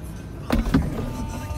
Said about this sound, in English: I'll just flip the roof up now.